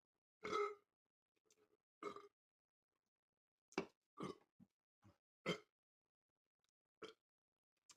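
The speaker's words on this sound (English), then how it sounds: "Let's see if we can get one last burp for my beloved baby pea." A baby lets out several short burps and grunts separated by silent pauses, close and fairly loud, with no one talking.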